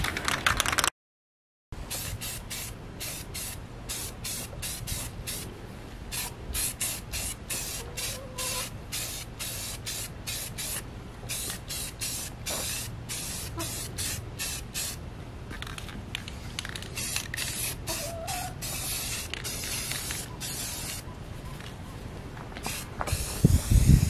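Close spray paint hissing in long continuous bursts with short breaks, nozzle taps and rattles between passes, no voices, painting rusty metal yard art.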